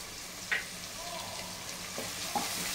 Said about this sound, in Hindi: इसको अभी अच्छे से भून लेना है